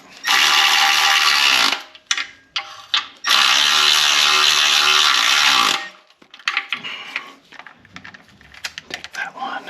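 Ratchet tightening 13mm oil pan bolts on a 2012 Dodge Journey 2.4L: long, loud, close bursts of rapid pawl clicking separated by short pauses, followed by softer intermittent clicks and handling noise.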